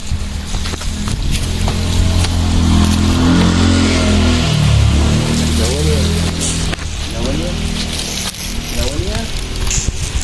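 A motorbike being washed with a spray of water outdoors, a loud continuous hiss and splatter with a low rumble beneath, voices chattering faintly through it.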